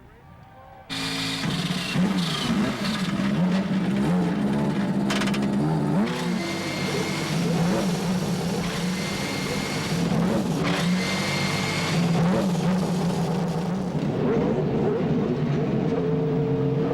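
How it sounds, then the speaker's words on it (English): Twenty-eight CART Indy cars fire up on the grid at the 1994 Detroit race, a sudden loud roar of many engines idling and revving together, steady and dense throughout with a faint voice early on. "now, though, we are ready for all 28 Indy cars to accept that command to start their engines"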